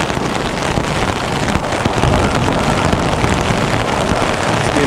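Steady, roaring night wind at about 3 kilometers altitude near Atsunta Pass in the Caucasus buffets the microphone without a break, a dense rushing noise that stays loud and constant throughout.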